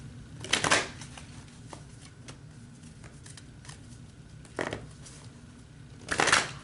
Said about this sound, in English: let me go ahead and pull some energy cards.